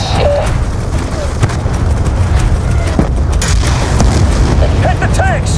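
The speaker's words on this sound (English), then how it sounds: "Enemy tanks are firing on the base." Enemy tanks firing during a base assault in the video game Call of Duty: Black Ops II, heavy booming cannon blasts and scattered gunfire rumbling continuously, with shouted voices briefly audible.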